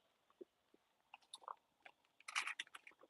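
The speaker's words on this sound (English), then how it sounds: "Do you guys want to know what I'm chewing?" Chewing on dry fish, with soft crunchy bites and wet mouth sounds in irregular bursts, close to the mic, growing busier and louder toward the end; no talking.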